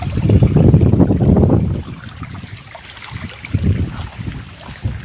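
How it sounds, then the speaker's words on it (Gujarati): Water flows through an irrigation channel beside jowar and groundnut fields on a Gir farm, making a loud, close, continuous rushing gurgle that eases a little partway through, with wind buffeting the microphone. "તો જોઈ શકો પાણીનો અવાજ તમે સાંભળતા છો।"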